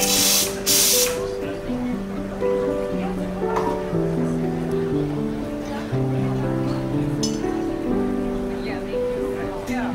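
Water spraying and hissing from an espresso machine's group head during a flush, a steady rush under continuous background music.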